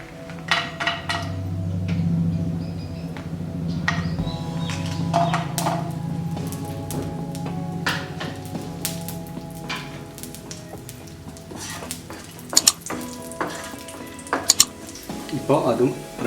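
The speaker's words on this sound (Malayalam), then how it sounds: "ഇനി ഇതേ എണ്ണയിൽ തന്നെ അണ്ടിപ്പരിപ്പും മുന്തിരിയും വറുത്തെടുക്കണം." Cashew nuts and raisins fry in oil for a Kerala banana payasam, a low steady sizzle with scattered clinks and scrapes of a spoon against the pan, louder metallic taps near the end.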